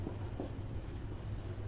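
Scratchy marker or chalk strokes on a board during a physics lesson on electric power, a few short bursts of writing over a steady low room hum, with no talking.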